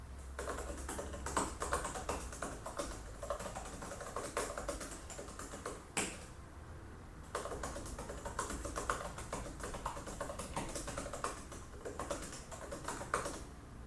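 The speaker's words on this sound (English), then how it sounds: "let's go ahead and check out the Apple Magic Keyboard and how that sounds" Rapid, uneven clicking of keys as someone types steadily on an Apple Magic Keyboard for iPad Pro, with one brief pause partway through.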